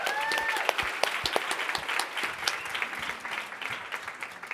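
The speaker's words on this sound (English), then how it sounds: "Let's give her one more round of applause." An audience gives a round of applause at a talk, a burst of lively clapping that starts strong and gradually thins and fades over a few seconds.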